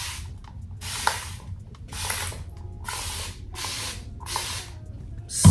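A handheld spray bottle spritzes water onto locs in about six quick hissing bursts, evenly spaced, close and fairly loud, each marked by the click of the trigger.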